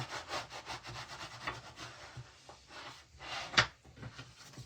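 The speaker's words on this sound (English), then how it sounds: "I'm going to burnish from this side too." Paper card being burnished from the back by hand, giving soft, close rubbing strokes in quick repeated passes, quiet with one sharper tap near the end.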